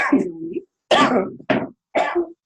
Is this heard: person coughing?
yes